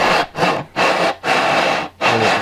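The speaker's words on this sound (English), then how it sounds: "Then you can take a sanding bar if you need to smooth this thing out." Four brisk, loud rasping strokes of a sanding bar smoothing a wooden R/C airplane wing panel, evenly paced with brief pauses between, close up and without speech.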